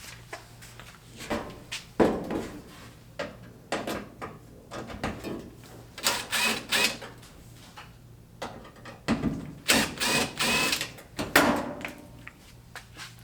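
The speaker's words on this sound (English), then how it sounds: "I'm going to pull out this filter" Filter being pulled out of a Whirlpool dryer during a belt replacement, heard as a series of short scraping and clunking knocks, with a few louder sliding rattles near the middle and end, close up.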